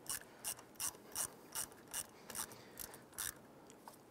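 A ratchet tightens a battery terminal bolt on a 1995-2001 Ford Explorer, giving about ten crisp, evenly spaced bursts of clicking at a moderate, close-up level with no talking.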